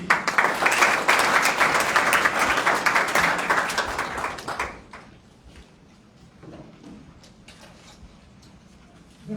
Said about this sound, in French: Monsieur Sékou Amadou Diallo, sous vos applaudissements, s'il vous plaît.